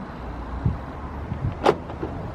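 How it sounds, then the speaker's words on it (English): A VW Golf locked with the remote key fob gives a single short sharp click near the middle, preceded by a couple of soft thuds, against a quiet outdoor background. "Just lock the car by reaching into my pocket and pressing the lock button wherever it is."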